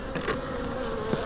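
Honeybees buzzing around an open hive at an apiary, a dense, close, continuous drone with individual bees swelling past, loud and alone without any voices.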